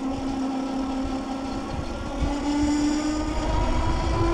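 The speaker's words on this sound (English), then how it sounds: "the motor is definitely working pretty hard right now" Tower Beach Bum 2 electric cruiser bike motor straining up a steep hill, a steady close whine with a slowly rising pitch over a rumbling ride noise, no talking.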